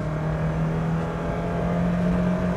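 A 1978 Vauxhall Chevette HS with a double overhead cam engine pulls hard under acceleration, its steady loud drone climbing slightly in pitch as revs rise, with no talking.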